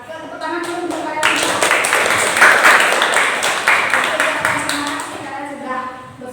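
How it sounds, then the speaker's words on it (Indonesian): Schoolchildren applaud together in a classroom, a dense burst of clapping that swells quickly, holds for several seconds and then tapers off, with a teacher's voice speaking before it starts and again as it fades. "Yuk, tepuk tangan dulu untuk kalian."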